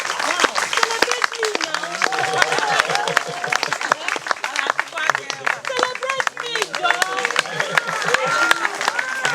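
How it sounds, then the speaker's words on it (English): Audience applause at an Enugu State poultry scheme event in Nigeria, steady clapping filling the whole stretch with crowd voices and talk mixed through it. "I think we can clap for her."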